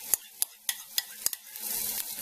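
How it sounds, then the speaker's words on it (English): Food sizzles steadily in a hot pan, with a handful of sharp clicks from a utensil scraping or tapping the pan in a loose rhythm. "I have my bacon bits sizzling away"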